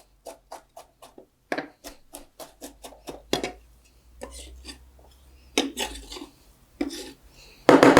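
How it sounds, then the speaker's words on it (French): Broccoli chopped with a knife on a board for a vegetable and ground meat tortilla, a run of sharp, evenly spaced knife taps close by, then a few scraping sweeps and louder final chops, with no talking. "On va venir prendre ici notre brocoli qu'on va venir hacher."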